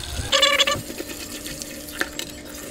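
Water runs from a kitchen tap while a pan is washed, a close splashing flow that strengthens briefly at first and then continues as lower, uneven trickling with small knocks.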